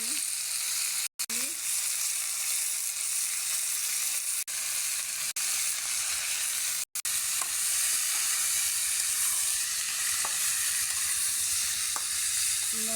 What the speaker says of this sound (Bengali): পাতাকপি, আলু, তিল দিয়ে ভাজি করতেছি